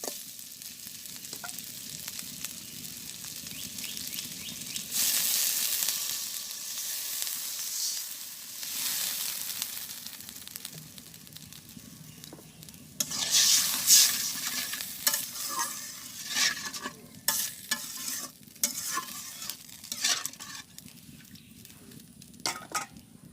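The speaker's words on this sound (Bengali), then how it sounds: "আমি এখন জল দিয়ে দেবো।" Sautéed potatoes in a village kitchen pan take a splash of water and are stirred, giving steady scraping and sizzling with louder hissing bursts around the pour. No talk is heard.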